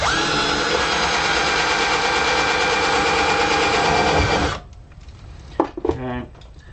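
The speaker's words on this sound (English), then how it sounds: "We're going to use our handy drill with our conical bit again." A hand drill with a conical step bit bores into a metal guitar pedal enclosure, a loud steady grinding whine running for several seconds before cutting off, followed by a few faint knocks and handling sounds.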